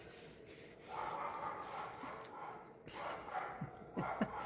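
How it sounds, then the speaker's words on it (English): A dog barks and snorts in short bursts off to the side, fairly faint, over low room noise, with a few yips near the end. "That's my dog if you hear it."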